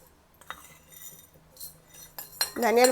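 A spoon tips coriander seeds into a heated pan, giving a few light metallic clinks and taps, then the rattle of the seeds landing in the pan at the end.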